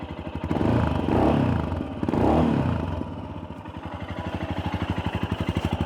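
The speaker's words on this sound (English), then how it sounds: "I'll give it a couple light revs so you can hear the exhaust here." A 2023 Royal Enfield Scram 411 motorcycle idles with its exhaust up close, blipped through two light revs that swell and fall back before settling into a steady, even thumping idle.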